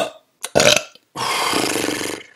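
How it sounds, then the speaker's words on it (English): A loud, close burp on a livestream: a short gulping onset, then a long, drawn-out, rumbling belch lasting over a second. "Ooh, burps are coming in hot."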